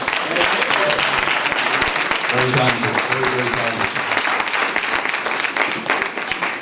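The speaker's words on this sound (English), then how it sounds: "Can we give another round of applause for the instruments of praise?" A full room applauds the musicians at a Martin Luther King Jr. tribute event, loud continuous clapping throughout, with a voice speaking briefly over it partway through.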